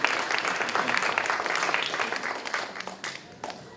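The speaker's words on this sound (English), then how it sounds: "why don't you give him a big round of applause again" A big round of audience applause at a university cultural event, a dense wash of many hands clapping that stays fairly even, then breaks into scattered individual claps as it tapers off.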